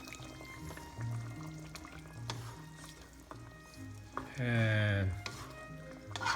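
Coconut oil pours into a pot of simmering chicken curry, followed by stirring; a steady sizzle and spoon scrapes run throughout, with one louder burst of pouring near the end and a brief spoken word.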